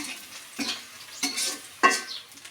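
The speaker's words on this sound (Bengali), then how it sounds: "সিনহাই যেখানে নুডলস রান্না করতেছে" Noodles cooking in a pan, with a few separate bursts of scraping and stirring over a faint sizzle, close by and fairly quiet.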